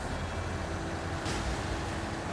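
A 1963 Chevy 60 truck engine in the Snowrunner video game rumbles steadily and fairly loud for the whole stretch, a continuous low drone with no talk.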